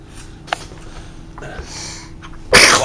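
A single person sneezes, a sharp loud burst at the end after quieter sniffs, shuffling and small noises.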